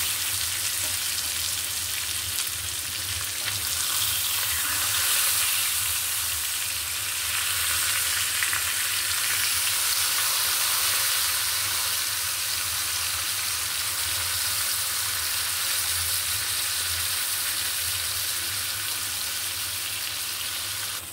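A large koi fish frying slowly in a pan gives a steady, even sizzle of hot oil that holds at one level from start to finish, close by and uninterrupted, with no voices over it.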